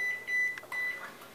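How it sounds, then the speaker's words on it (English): A microwave oven heating French style green beans gives a few short, steady beeps close by, with small clicks between them and no speech. "So I'm putting those in the microwave."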